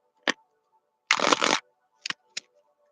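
Tarot cards being shuffled by hand in a quiet room: a short riffle burst in the middle, framed by a few brief snaps and taps of the deck, close and fairly crisp.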